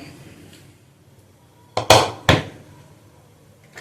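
Ginger, chopped spices and beef are mixed in a metal dish during home cooking, with three sharp clanks of a utensil against the pot close by, set against quiet room noise.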